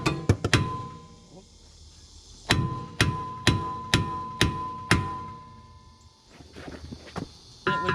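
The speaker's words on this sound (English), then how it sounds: "but I just use a hammer" A hammer strikes a brake rotor on a Lexus GS300 to knock it loose: sharp metallic clanks ring out, a few quick hits at first and then a steady run of about six evenly spaced blows. There is no talk.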